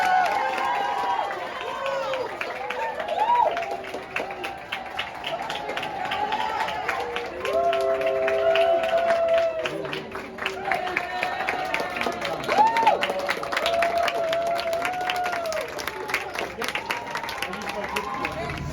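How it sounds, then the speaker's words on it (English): High school students clap people through a tunnel, producing dense, continuous rapid applause mixed with cheering and chattering voices from a close crowd. "this video we caught of them getting clapped through the tunnel earlier this week"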